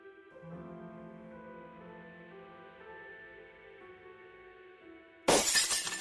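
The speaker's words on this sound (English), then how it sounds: "Don't get near the broken glass, okay?" Glass shattering in the Shardlight video game, a sudden loud crash at the end of a quiet stretch of sustained ambient game music.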